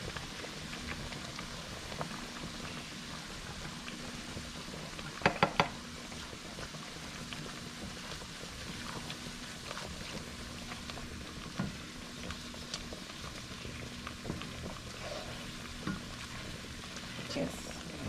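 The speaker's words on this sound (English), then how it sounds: "I'm gonna add the flour to my onions and the garlic." Onions and garlic frying with flour in a pan for a homemade Alfredo sauce, a steady close sizzle and crackle running throughout, with a few brief utensil knocks and clinks against the pan.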